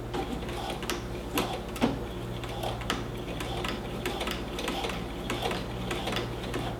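A sewing machine back-stitches to secure a twill tape waistband on a skirt, a steady rapid ticking clatter with a low motor hum throughout, close and fairly quiet, with no talking.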